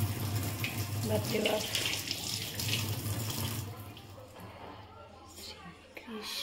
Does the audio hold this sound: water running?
yes